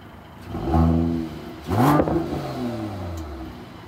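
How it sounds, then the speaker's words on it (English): A 2021 Mercedes GLE 53 AMG's 3-liter turbocharged six-cylinder engine catches and revs twice in quick bursts, rising and falling, then settles into a low idle, close and loud. "What you heard there was a 3-liter six-cylinder turbocharged engine."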